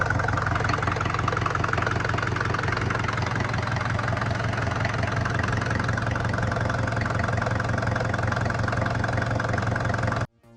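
Mercedes-Benz OM617 3.0-liter inline-5 diesel engine idling steadily up close, a loud continuous rumble with a rhythmic diesel knock that holds unchanged for about ten seconds, then cuts off abruptly, with no voices.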